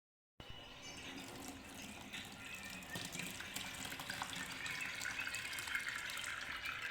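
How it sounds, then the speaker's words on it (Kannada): Curdled milk poured through a cloth to strain out paneer, made from milk powder: a steady, continuous splash and trickle of liquid that builds slightly louder and stays close, with no talking. "ಹಾಲನ್ನ ಒಡಿಸಿದ್ದೀವಲ್ಲ ಅದನ್ನ ಹುಷಾರಾಗಿ ಹಾಕಿ"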